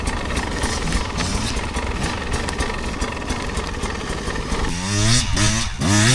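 Beta 250 Race 2026 enduro motorcycle engine running steadily with a dense, buzzy drone, then revving sharply with rising pitch sweeps in the final second and a half, loud and close, no speech.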